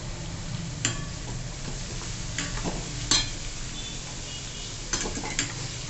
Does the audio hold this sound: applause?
no